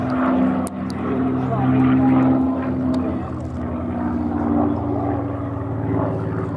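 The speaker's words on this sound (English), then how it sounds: "This is a Castle Bromwich Spitfire." A clipped-wing Supermarine Spitfire Mark 16, Castle Bromwich built, drones overhead at Duxford with a steady, loud piston-engine roar that swells and fades slightly as it passes.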